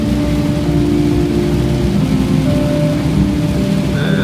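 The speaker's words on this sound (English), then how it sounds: "It is raining like crazy. Really heavy." Heavy rain drums loudly and constantly on a van during a Norwegian summer storm, a dense unbroken roar with a low steady hum underneath.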